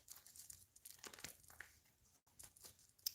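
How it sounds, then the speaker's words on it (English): Tarot cards shuffled by hand, a run of crisp riffling and crinkling bursts close up, pausing briefly near the middle before a few more sharp flicks, with no talking. "And I'll start shuffling for Aries."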